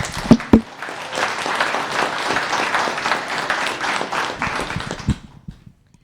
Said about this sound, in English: And that alone deserves a round of applause